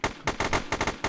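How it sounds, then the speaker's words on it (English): A pistol fires at an enemy in a video game: about six quick, sharp shots in rapid succession, loud and close. "You shoot him with a pistol a couple times."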